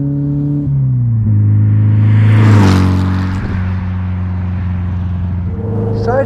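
A 1957 Porsche 356 Speedster, performance-tuned, pulls hard with a loud, rising engine note that surges, drops at a gear change, then climbs again, heard up close from the car.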